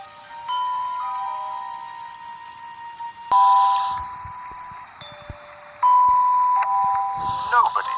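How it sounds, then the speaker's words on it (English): A melody chimed on bells, ringing in several bright phrases with pauses between, each set of notes sustaining and fading. "She needs to ring the melody on bells."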